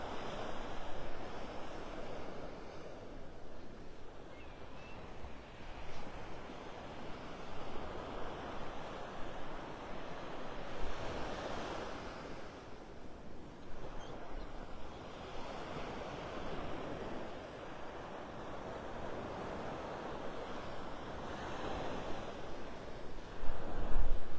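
Surf rolls in steadily along Vanderbilt Beach in North Naples, Florida, with gusting wind buffeting the microphone. Waves break in broad, repeated swells that rise and fall, and no voices are heard.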